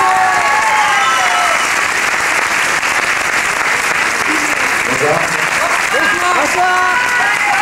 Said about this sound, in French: Je voudrais également que vous applaudissiez le réalisateur du film La Gamine